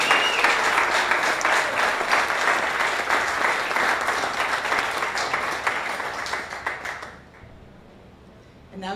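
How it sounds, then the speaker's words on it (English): An audience applauds filmmakers at a film screening event, loud dense clapping that carries for several seconds and then fades out abruptly near the end. "So give every one of those filmmakers a huge round of applause for getting the work."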